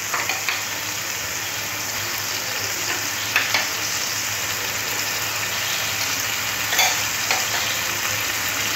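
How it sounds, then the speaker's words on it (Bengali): Chicken mince fries with masala in a pan, a continuous close sizzle broken by occasional stirring scrapes and clicks, with no talking. "চিকেন কিমাটা মশলার সাথে একটু ভেজে নিতে হবে।"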